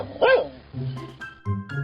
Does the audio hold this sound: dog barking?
yes